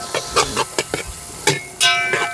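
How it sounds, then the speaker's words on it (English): Kashmiri chili powder frying briefly in hot oil outdoors, giving short crackling sizzles and scraping stirs in quick irregular bursts, close and fairly loud. "we are cooking the spice in the oil, so you can see the nice red colors"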